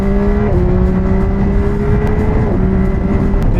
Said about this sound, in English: quick shifter and auto blip is ridiculous on this bike. Let me go ahead and demonstrate that for you guys.